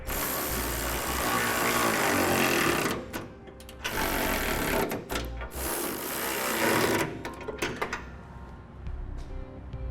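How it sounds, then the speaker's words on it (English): Bolts are driven tight to attach a trailer hitch receiver to a 1986 Chevrolet frame, likely with an impact tool, in loud buzzing bursts of several seconds each with short gaps and clanks between, close by. "I'll go ahead and tighten down our bolts, attaching our receiver to the frame."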